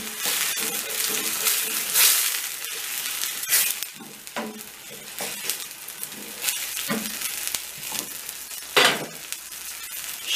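Onion and tomato paste stirred and frying in a pot for lokanta-style tas kebab: a steady sizzle with scraping spoon strokes and occasional clinks against the pot.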